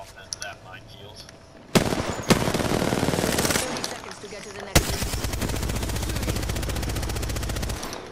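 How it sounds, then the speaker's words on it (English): Automatic gunfire from Apex Legends rattles in two long sustained bursts, loud and rapid, with a single sharp shot between them and quieter game sounds before the firing starts. "I'm gonna try and shoot the traps out"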